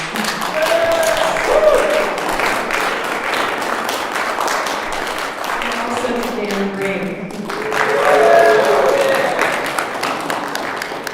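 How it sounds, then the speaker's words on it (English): An audience at a senior capstone presentation gives a round of applause, a steady wash of clapping that swells again near the end, with a voice speaking over it in the middle. "Let's give him another round of applause."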